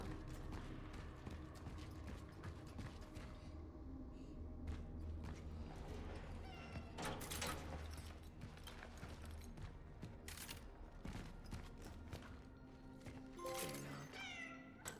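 A cat meows in the video game Cronos: The New Dawn, the call set against a dense, steady bed of game ambience and music with some mechanical clanks around it.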